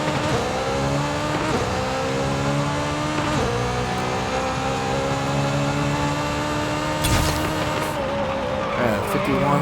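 A tuned AP1 Honda S2000 launches down a drag strip in Forza Horizon 5, its engine screaming higher through the gears, tyres squealing at the start and a sharp shift burst near the end, loud and close.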